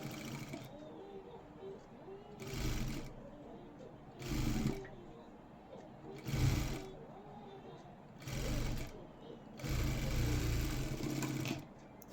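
An overlock sewing machine stitches a blouse in five or six short, loud bursts spaced a second or two apart, with a quieter low hum between them.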